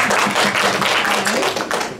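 Brief, dense applause from a discussion-event audience, with many hands clapping together at close range for a couple of seconds before tapering slightly.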